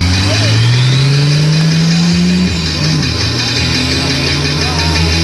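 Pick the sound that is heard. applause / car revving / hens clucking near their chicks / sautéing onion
car revving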